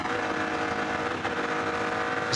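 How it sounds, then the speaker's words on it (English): BMW race car engine at the Nürburgring, a loud continuous roar holding steady close by with a slight change in pitch and no voices. "The sound of the BMW engine changed up there as he went in over the brow towards the Stefan Bellof S."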